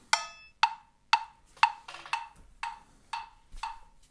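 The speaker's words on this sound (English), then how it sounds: "I've got to put the metronome on at 120" Steady metronome clicks at 120 bpm, eight sharp ticks evenly spaced about half a second apart, crisp and close with nothing else around them.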